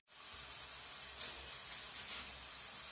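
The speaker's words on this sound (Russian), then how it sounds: "И обжариваем все, пассируем немножко." Carrots and onions fry in a pan with a steady, close, bright sizzling hiss that starts abruptly and carries on evenly, with no voices.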